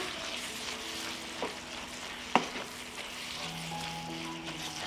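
Meat sizzles in a pan with chopped bacon just added, a steady fry broken by one sharp scrape of the stirring utensil.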